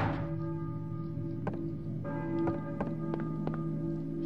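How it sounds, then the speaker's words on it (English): A church bell in a video game rings a few times, soft and somewhat distant, over a steady droning ambient background. "a church bell, and maybe we is ringing the bell."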